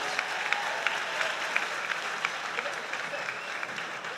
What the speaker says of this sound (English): While we give them a massive round of applause